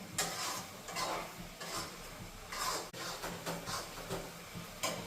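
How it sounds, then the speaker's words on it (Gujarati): Bottle gourd halwa with milk and cream stirred in a pan, giving steady scraping swishes with soft sizzling beneath, a few louder strokes spaced through the stretch, no voices. "થોડીક વાર આપણે હલાવશું 5 મિનિટ."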